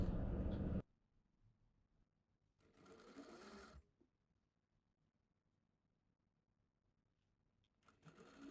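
Sewing machine stitching a skirt seam in short bursts: a loud run at the start, a second run around three seconds, and another starting near the end, with quiet pauses between and no talking.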